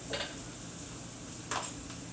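Cooked rice goes into a hot pan for pork fried rice, with a faint steady sizzle and a couple of light scraping clinks from a spoon against the pan.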